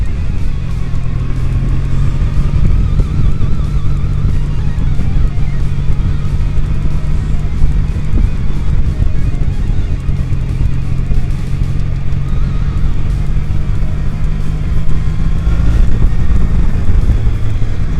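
A classic-style motorcycle's parallel-twin engine idles with a steady, throbbing rumble, close and continuous, its low pulse unchanging throughout.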